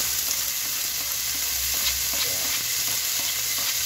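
Chopped tomatoes sizzle steadily in a hot pan for binagoongan, a dense continuous frying hiss with faint stirring scrapes underneath, close and constant with no speech.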